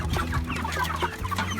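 Cornish Cross meat chickens cluck and murmur continuously at close range, with low, overlapping grumbling calls and short higher clucks and no voices.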